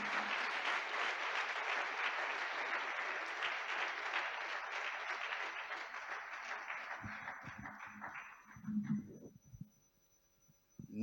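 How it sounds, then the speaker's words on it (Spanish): A church congregation at a missionary conference claps in sustained, dense applause that fills the room, then tapers off and fades out near the end. "Yo creo que esta iglesia merece un aplauso."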